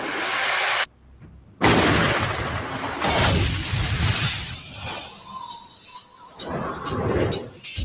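In a movie trailer, a sniper rifle cracks with a loud sharp burst that is followed by a brief dead silence, then booming, rumbling impacts and whooshes carry on in a dense, heavy mix.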